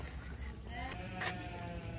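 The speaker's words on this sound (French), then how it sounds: "Ah, il y a des chèvres." Goats at a children's zoo give a short, nearby bleat over a soft murmur of background noise, with a faint voice in the surroundings.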